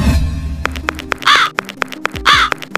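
Crows caw harshly indoors, two loud close caws standing out among sharp clicks and knocks, with a low voice murmuring briefly at the start.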